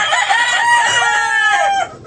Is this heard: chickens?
yes